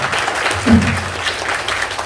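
A short burst of applause, many hands clapping in a dense patter that holds steady for a couple of seconds.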